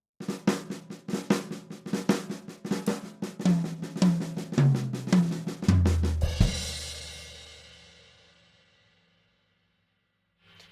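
Snare rudiment on a drum kit: a flamacue lick played slowly with flam accents at the end, steady close strokes building to a final accented hit that rings out and decays into silence.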